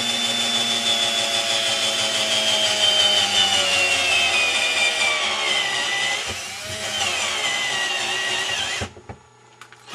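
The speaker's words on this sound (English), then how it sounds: "once the step drill gets going, it really starts going." A power step drill bores steadily through material resting on PVC, a loud, continuous whining grind for about nine seconds with a slight dip midway before it stops abruptly.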